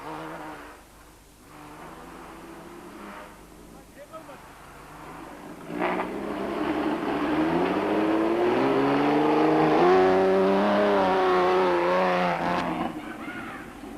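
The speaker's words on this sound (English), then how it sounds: "the big single-seater lubrication equipment Raceco, driven by Richard Carolyn, made light work of the crossing" Big single-seater Raceco off-road rally car at the 1997 Tarkastad 400 pushing through a water crossing, its engine droning steadily and swelling louder midway while a commentator talks throughout.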